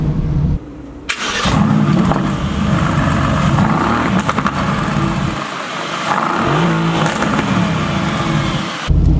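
A Mercedes AMG GTS sports car cranks and fires up with a loud burst, then idles and revs repeatedly in rising and falling throaty swells, heard up close, no talking.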